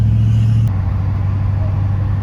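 A 1967 Mercury Cougar pulling away, its engine a loud low steady drone heard from inside, with a brief higher tone dropping out early and the rumble continuing evenly.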